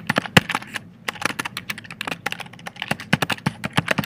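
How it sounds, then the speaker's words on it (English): Computer keyboard typing, a rapid, irregular run of crisp key clicks, close and loud, with no talking. "I can type in my subject"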